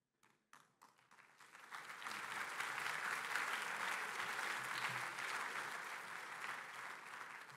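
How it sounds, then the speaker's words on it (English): Applause for the awardees at an international competition's closing ceremony, starting as a few scattered claps before swelling into a sustained, dense wash of clapping from a large audience that holds steady. "Give them another round of applause, to all of them"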